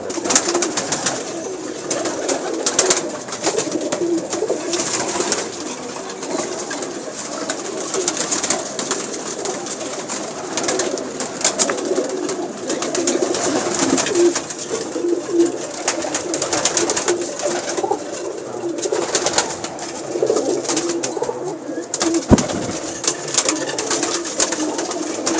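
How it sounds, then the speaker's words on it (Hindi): Pigeons kept by a fancier coo and rustle nearby, with soft overlapping calls running steadily under faint background activity; no one speaks. "ये जनाब शकील भाई के कुछ कबूतर आपको दिखा रहे हैं"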